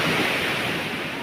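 Sea waves wash onto a beach in a continuous loud rush of surf, close by, with wind noise on the microphone and no voices.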